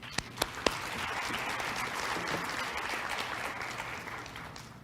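An awards day audience at a community college gives quiet, steady applause, a soft, distant patter of many hands with a few sharper claps at the start.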